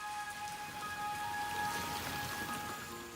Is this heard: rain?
yes